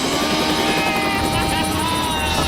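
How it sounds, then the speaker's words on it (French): A helicopter hovers in place for a test, its rotor and engine giving a loud, steady, close drone with a fast rhythmic chop that does not let up. "Hélicoptère en place, prêt pour le test."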